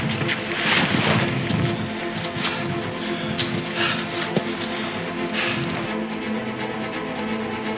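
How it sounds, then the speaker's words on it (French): Strong wind sweeping across an open mountain plateau, a steady loud roar buffeting the microphone with gusty rustling bursts and no speech. "D'un coup, on commence à avoir tout le vent du plateau qui nous arrive dessus."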